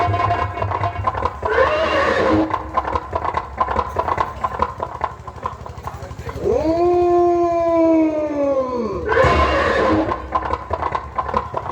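Horse neighing during a nautanki folk theatre performance, one long loud wavering whinny over steady background noise and music.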